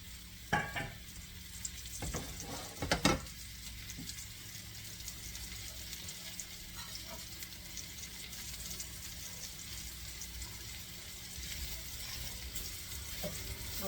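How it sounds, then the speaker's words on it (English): Mushrooms fry over high heat in a pan for chicken Marsala, a steady, fairly quiet sizzle with a few clattering stirs near the start. "add the mushrooms and turn the heat up on high"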